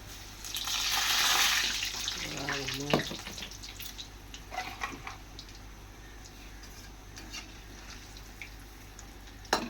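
Water pours out in a splashing stream for a second or two while moong dal fritters are being cooked, followed by scattered faint drips and clatters, with a voice talking quietly.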